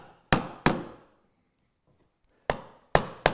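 A chisel struck into wood along a marked line, bevel down, gives sharp, hard knocks: two close together, a pause, then three more, each ringing briefly before fading in a quiet room.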